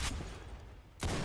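Gunfire in the Roblox shooter game Arsenal: a loud burst of shots opens and another bursts back in near the end, with a quieter stretch between.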